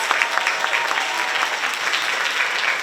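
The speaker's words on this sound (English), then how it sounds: "Let's give our 3 presenters another round of applause" Steady, dense applause from an audience at a Black History program, filling the whole stretch evenly and loudly with no voices breaking through.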